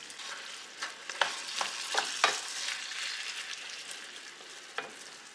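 Mushrooms fry in a pan for homemade lasagne, a steady soft sizzle with brief stirring scrapes and clicks of the utensil, close and moderately quiet, with no talking.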